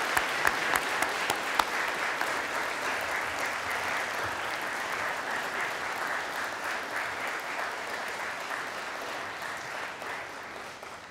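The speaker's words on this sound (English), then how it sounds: "give them a round of applause for all of the support that they've given you" University graduands give their friends and family sustained applause at a graduation ceremony in a large hall. It starts with a few distinct claps and swells into steady, dense clapping that lasts throughout.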